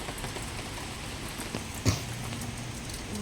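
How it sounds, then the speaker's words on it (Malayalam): Rain falling steadily in the early morning after days of wet weather, a soft, even hiss with faint scattered drop ticks and one brief knock, fairly quiet throughout. "നേരം വെളുത്തപ്പോൾ തുടങ്ങിയ മഴയാണ്"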